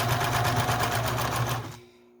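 Sewing machine stitching a scrappy piano-keys quilt top border, a loud steady rapid whir of needle strokes up close that winds down and stops near the end.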